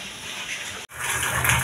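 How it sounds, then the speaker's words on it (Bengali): Steady rushing water, like heavy rain pouring outside a home, broken by a brief cut before resuming louder and fuller. "দেখো বাইরে বৃষ্টি হচ্ছে, তো জলের শব্দ পাবে"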